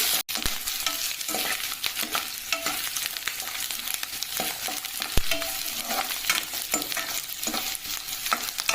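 Onions and curry leaves sauté in a pan for a bottle gourd dish, a continuous loud sizzle with frequent scraping stirs and utensil knocks close by, no talking.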